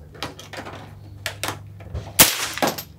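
Live firearm shot at a shooting range: one sharp, loud report rings out among quieter clicks and handling noises nearby.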